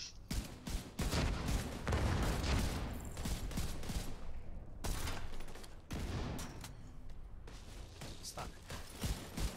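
Dense, continuous video game gunfire from a raid operation fills the scene with loud, overlapping bursts of shots and booms, with brief lulls. A voice speaks a single word over the shooting.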